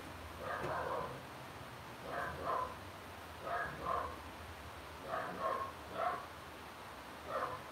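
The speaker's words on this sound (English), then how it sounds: "Stanley is barking at the kids playing" A pet dog barks indoors at children playing outside, giving several short bursts of barking in a loose, irregular rhythm, moderately loud and close, with quiet gaps between the bursts and no talk.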